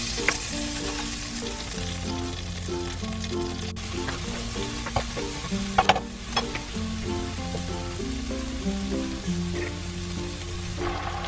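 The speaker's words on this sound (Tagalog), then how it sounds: "So first I will do is fry garlic and onion and then add the chicken." Garlic and onion fry steadily in a pan with a continuous crackling sizzle and occasional stirring clinks, close and alone without voices throughout.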